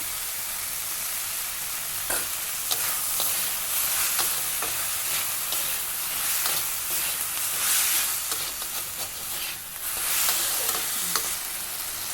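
Frying on a low gas flame while being stirred, a continuous close hissing sizzle with frequent soft scraping strokes of a spatula throughout.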